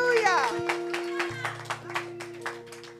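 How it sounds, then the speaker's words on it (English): Steady rhythmic clapping from a church congregation at a worship service, a beat roughly every quarter second, blended with sustained music and singing voices. "Clap for the Lord."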